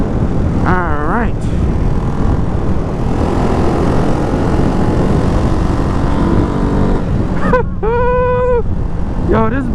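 Ducati Hypermotard 698 Mono RVE single-cylinder motorcycle engine under way, a loud steady drone with sharp revving blips at the start and again near the end as the rider downshifts, under wind rush.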